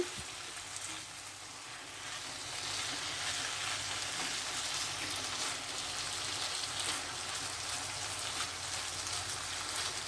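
Beef chow mein with egg being stir-fried and mixed in a pan, a steady faint crackling sizzle like light rain that thickens slightly partway through.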